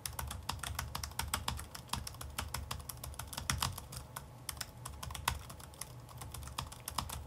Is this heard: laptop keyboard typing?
yes